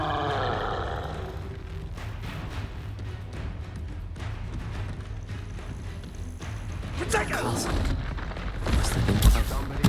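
Confringo fire spell blasts in Hogwarts Legacy, booming bursts layered in a dense, noisy combat mix with a voice over it, intensifying into heavier impacts near the end.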